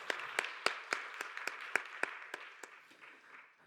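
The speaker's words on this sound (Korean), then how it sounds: "박수로 서로를 격려하겠습니다" A church congregation at a Sunday youth worship service claps in a steady, even rhythm, about four claps per second, fairly faint and tapering off toward the end.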